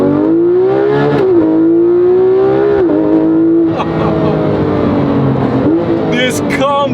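A Porsche 911 GT3 RS engine revs hard and accelerates up close. It gives a loud, rising mechanical howl broken by quick dips at each gearshift, with a sharp high whine near the end.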